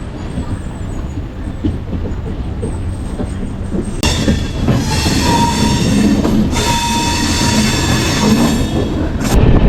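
Trivandrum–Chennai Mail passenger train (12624) running toward Varkala Sivagiri, heard from on board: a loud, steady rumble of wheels on rails with squealing and metallic ringing that swells midway.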